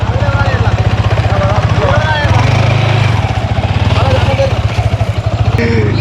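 Motorbike engines chug steadily while crossing a flooded road in Mullaitivu, Sri Lanka, a loud, close, continuous throbbing drone with rising revs and bursts of voices over it.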